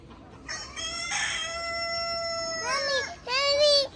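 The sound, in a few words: rooster crowing on a small farm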